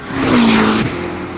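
A Ferrari hybrid supercar accelerates on a track, a loud rising engine whine swelling, then easing off into a steady roar.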